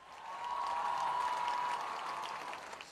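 Audience applause at a Punjab student laptop and scholarship ceremony comes as a continuous, moderately distant round of clapping from the crowd, rising slightly and holding steady without talk.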